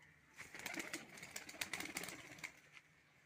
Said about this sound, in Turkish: Güzel güvercinler.